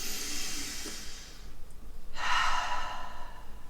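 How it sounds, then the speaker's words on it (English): A person takes a long, deep breath in, an airy close-up hiss that swells after a brief pause, with no talking. "take a deep breath in"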